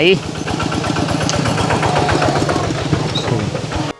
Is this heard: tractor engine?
yes